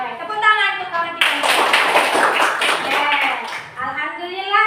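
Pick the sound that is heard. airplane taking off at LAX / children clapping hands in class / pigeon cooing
children clapping hands in class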